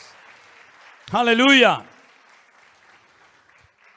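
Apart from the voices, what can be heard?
congregation applause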